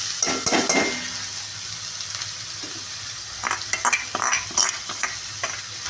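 Ponnaganti greens being stirred into fried onions in a hot pan, with a steady sizzle under repeated scraping and clinking strokes of a spoon against the pan, close and fairly loud.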